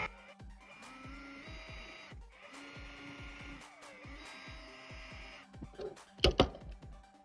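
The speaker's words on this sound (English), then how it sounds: "drill the rivets out on this thing" A drill bit grinds into a rivet head set inside a ring, turning slowly and steadily with a steady mechanical whine. A louder, sharper burst of grinding comes near the end.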